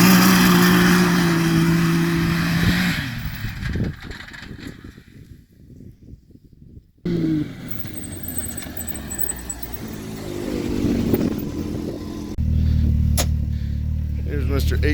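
An HPI Savage X3 RC truck making a boosted launch in 4-wheel drive: a buzzing motor surges and fades, cuts out briefly, then revs again, loud and near, with no talk.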